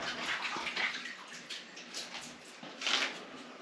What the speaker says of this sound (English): I'm just going to quickly wash my hands